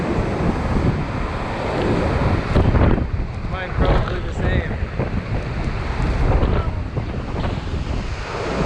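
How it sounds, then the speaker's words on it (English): A powerful waterfall on Iceland's Golden Circle roars loudly with heavy wind buffeting the microphone, and a voice speaks briefly over the din. "Look at how strong the waterfall."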